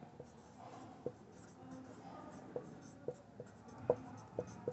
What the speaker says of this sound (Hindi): देखो यहाँ पे हम लिख देते हैं